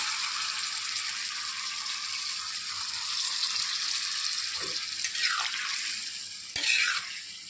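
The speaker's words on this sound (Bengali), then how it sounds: "এখন আমি পরিমাণ মতো ঝোল দিয়ে দেবো, জল দিয়ে দেবো আর কি।" Water poured into a pan of vegetable and prawn curry sets off a continuous bright hiss of sizzling and bubbling, with a couple of sharper splashes toward the end.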